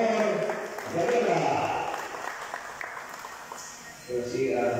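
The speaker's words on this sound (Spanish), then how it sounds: "Los aplausos, por favor." Applause at a motocross press conference, a moderate patter of clapping under a voice speaking over it, dipping partway through and then rising again.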